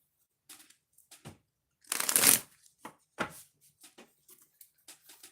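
Tarot or oracle cards are shuffled by hand in short, crisp riffling bursts, with one longer loud shuffle in the middle and softer flicks and taps around it, close and in a quiet room.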